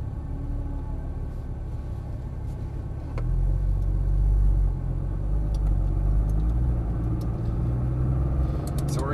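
A Porsche 911 Turbo S idles with a steady low rumble, then its engine note swells at about three seconds as the car pulls away and drives on. No one speaks.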